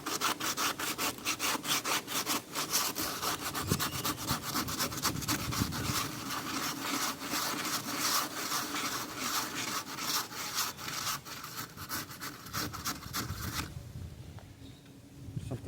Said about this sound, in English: We'll scuff this up. It just allows the glue to have a little better surface area.